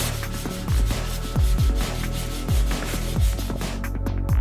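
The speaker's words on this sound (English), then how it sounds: "sand out all your scratches with some 120 grit dry sandpaper and a block" A sanding block with 120 grit dry sandpaper rasps steadily across a scratched plastic car bumper. The hand strokes come close and loud in a continuous back-and-forth rhythm.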